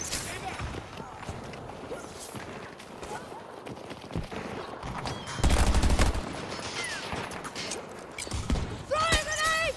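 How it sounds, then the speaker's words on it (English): Gunfire in Battlefield 2042: scattered shots and bursts throughout, with a loud dense volley midway and more firing near the end, amid busy battlefield noise and voices. "Hey, who's shooting them?"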